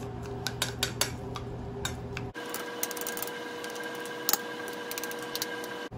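Hot rice being mixed with vinegar using a cutting motion, producing a series of light scraping taps and clicks from a utensil against a bowl, close and faint over a steady background hum.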